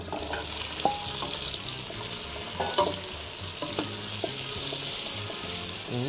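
Garlic, celery, carrot, bell pepper, eggplant and potato fry for an acquacotta soup with a steady, close sizzle, broken by occasional clinks and stirring knocks.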